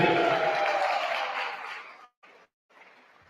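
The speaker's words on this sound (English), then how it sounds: "Give him a round of applause, Tabiso." A workshop audience in Sebokeng claps for a participant, a dense burst of applause that fades after about two seconds, followed by two short scattered bursts of clapping.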